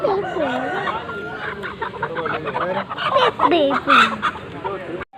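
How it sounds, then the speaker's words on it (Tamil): Clucking and throaty calls from a rooster at Padiyur market in Tiruppur sound up close, repeated in short bursts over a busy background, with a person speaking alongside. "இதுதான் நம்ம தோட்டத்துக்காக இப்போ வாங்க போகிற சேவல்"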